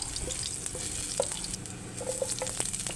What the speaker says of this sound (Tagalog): Magisa na tayo ng ating ahos.